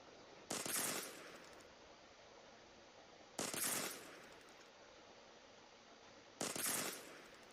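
Three short bursts of automatic gunfire from the video game Arena Breakout, evenly spaced about three seconds apart, each a sharp rattling volley over a steady background hum, with no talking.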